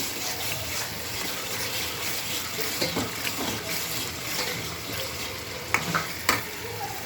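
Pav bhaji cooks in a pan with ground coriander-cumin powder, giving a steady frying hiss with scraping stirs and a couple of sharper knocks near the end.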